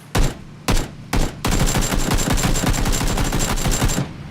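Gunfire in the battle-royale shooter PUBG: three separate loud shots, then a sustained rapid burst of automatic fire lasting several seconds, close and dominant.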